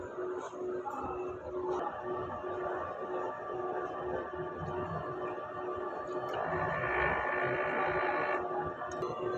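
An inkjet printer runs its head clean cycle, giving a low steady mechanical hum and whir that swells slightly near the end, fairly quiet and without talk.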